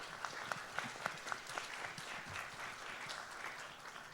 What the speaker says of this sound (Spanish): para quien pido un aplauso de todos ustedes.